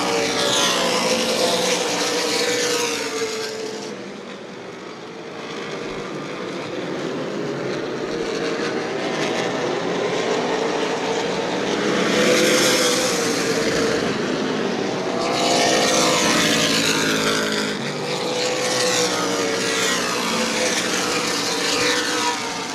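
Race cars roar around the New Smyrna Speedway oval during the Clyde Hart Memorial 100, loud engines swelling and fading in repeated passes as the pack sweeps by, with no talk over them.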